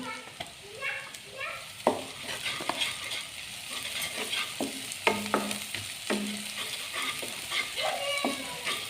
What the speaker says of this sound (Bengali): পেঁয়াজ আমি ভেজে নিচ্ছি। এখানে আমি ফ্রেশ 2টা আদা রসুন কুচিয়ে নিয়েছি, সেগুলো দিয়ে দিচ্ছি।